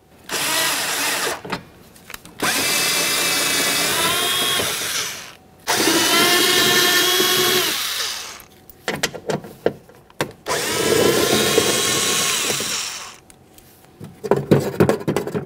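A power tool unfastening the window regulator mounting bolts inside the door of a 1994-1999 Honda Accord: loud, close whirring bursts of a few seconds each, separated by short pauses, ending in quick clicks. No one speaks.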